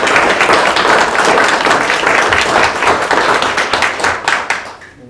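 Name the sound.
applause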